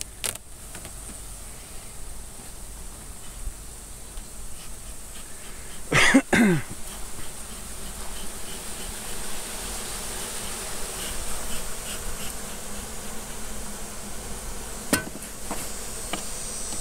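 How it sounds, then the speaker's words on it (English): Bumblebee buzzing near a beehive, a faint steady drone throughout with a couple of brief knocks and a cough-like burst partway through. "Not a friend of the bumblebee?"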